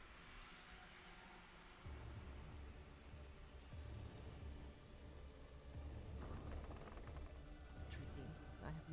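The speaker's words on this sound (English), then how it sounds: "I love the nighttime rain like this." Nighttime rain in the fantasy survival game Conan Exiles falls as a steady, broadband hiss with deeper rumbling swells, continuous through the stretch and fairly quiet in the mix.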